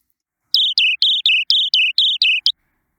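Synthesized great tit birdsong, eight crisp, evenly spaced two-note whistled phrases in a quick repeating rhythm, clean and isolated with silence before and after.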